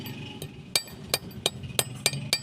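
Metal taps from a hammer striking a carburettor part, about seven sharp, evenly spaced blows in a steady rhythm, close and clear with no talking.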